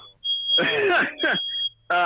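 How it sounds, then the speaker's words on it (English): A home smoke detector goes off as a steady high-pitched electronic tone, running continuously under someone talking. "I think my wife just set off the smoke detector is what is happening here"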